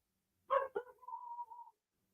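A dog in a garage gives one short bark followed by a drawn-out whine, faint and isolated against silence.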